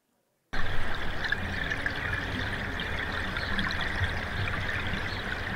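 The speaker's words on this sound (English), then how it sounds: "You still have the river there," A river rendered as sound in a geoscience data sonification enters abruptly after a brief silence and then flows as a steady, even rush of running water.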